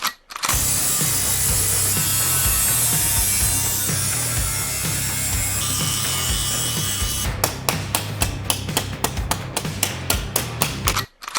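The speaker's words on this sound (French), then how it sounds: "je coupe la tôle" Sheet metal is cut on a rusted Mercedes, first as a loud, continuous harsh rasp, then as a series of rapid rhythmic strokes near the end, with no voices.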